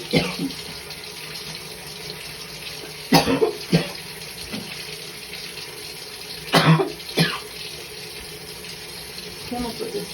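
Tap water runs steadily into a dirty bathtub, a constant hiss close by, broken a few times by a person coughing and clearing their throat.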